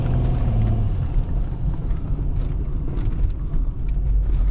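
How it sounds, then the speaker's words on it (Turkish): A Chrysler 300C engine idles with a fault in its injectors, giving a steady, loud low rumble that holds throughout, with faint ticking scattered on top and no talk. "Enjektör sesi var, enjektörler revizyona gidecek."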